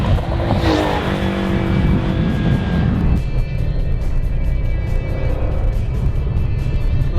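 A Porsche 930 Turbo and a Porsche 965 Turbo pulling away, with engine roar and a rising revving note early on, then a steady loud drone of running engines to the end, no talk heard.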